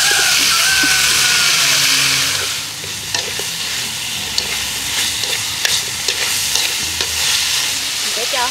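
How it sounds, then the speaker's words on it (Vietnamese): Chili tipped into a pan of garlic already golden in hot oil, stir-fried for a Vietnamese frog dish, crackles in a loud, steady sizzle with scraping stirs and sharp spatter pops throughout, no voices. "cho hết cái phần ớt này vô xào luôn."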